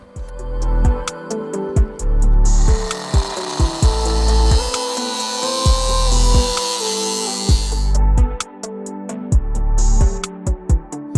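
Curved intake pipe being worked loose from a Honda Civic time attack car's engine: a loud run of scraping, rubbing and knocking with rhythmic pulses, close and busy, with no talking.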